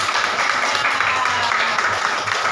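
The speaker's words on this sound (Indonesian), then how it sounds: "Iya, tepuk tangan dong." Classroom applause during a school lesson, a continuous wash of many hands clapping at a steady level, with some voices faintly mixed underneath.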